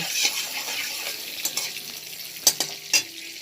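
Butter melts and sizzles steadily in a pan for butter chicken, a soft continuous hiss close by, broken by a few light clinks and stirs.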